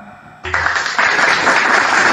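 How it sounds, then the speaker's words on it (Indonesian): Audience applause erupting suddenly after a brief quiet moment and building into a loud, dense, sustained wash of clapping from a crowd at an event. "Jadi berikan tepuk tangan yang meriah untuk Dinda Fandi Ahmad"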